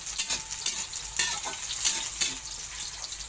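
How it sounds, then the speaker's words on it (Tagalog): Steady, crackling sizzle of eggplant frying in a pan on a gas stove, with a few louder pops and stirring scrapes, no voices. "Magprito tayo ng talong."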